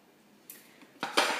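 Picnic cutlery and dishes are handled up close, with a few faint clinks followed by louder metallic clatters near the end.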